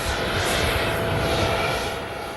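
Jet aircraft engine roaring steadily on the tarmac at a departure ceremony in Oxnard, California, a loud, continuous broadband rumble that holds for a couple of seconds and eases slightly at the end, with no talk.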